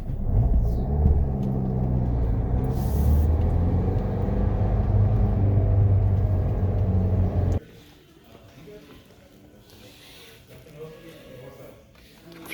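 A car on a short drive to an auto parts store, a steady engine rumble and road noise that runs loud for several seconds before cutting to a quieter interior hum.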